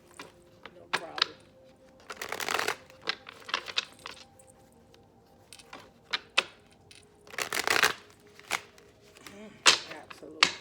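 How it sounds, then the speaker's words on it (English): Playing cards riffled during a tarot reading session, crisp ruffling bursts and flicks recurring irregularly at close range, with occasional soft handling clicks between shuffles. "I'm going to do one shuffle here."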